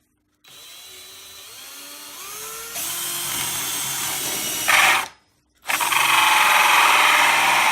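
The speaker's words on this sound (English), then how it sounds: "Okay, so then we'll start drilling." A power drill bores into an old MDF backer board, its motor whine ramping up in stages to a steady high-pitched drone, stopping briefly before restarting at full speed.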